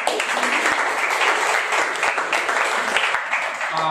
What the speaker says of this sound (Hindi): क्यों ना हम ताली बजाए उनके लिए जोर से।